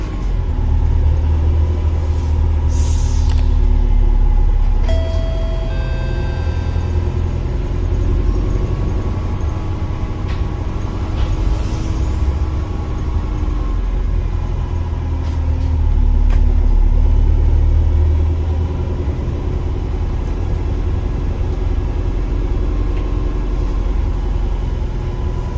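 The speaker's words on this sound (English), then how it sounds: "And the diesel engine's on." A Volvo B5LH hybrid double-decker bus with a Wright Eclipse Gemini 2 body runs its diesel engine, a steady low rumble and drone heard from on board for the whole stretch, swelling slightly at times.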